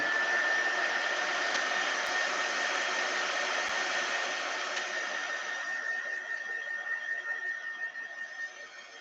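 A hair dryer blows steadily on painted thrift store spoons, a constant close whirring hiss with a thin high whine that softens slightly and wavers toward the end.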